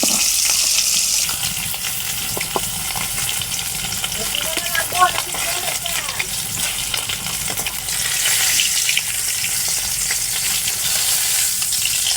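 Pond-caught fish frying in a pan with a steady, close hiss and sizzle lasting throughout, with a few soft clinks partway through and the crackle swelling again near the end.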